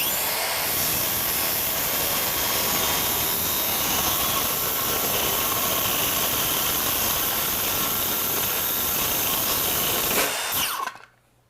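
A power tool cuts through a polycarbonate part with a loud, continuous high-pitched whine and grinding that runs steadily for about ten seconds, then stops abruptly with a small click.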